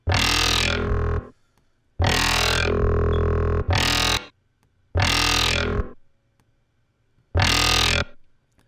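Five bursts of sound processed in Logic with a heavy, muffled effect, hollow and boxy as if heard from inside a fishbowl, separated by short gaps of near silence.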